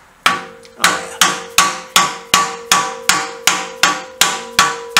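A hammer strikes annealed steel box section protected by tape, about a dozen loud, evenly spaced metallic blows with ringing tones, close and alone.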